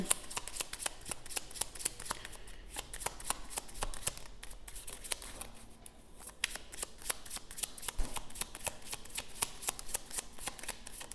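Playing cards shuffled during a card reading, a steady run of quick riffling clicks and flutters lasting throughout, close and fairly quiet, with no voices.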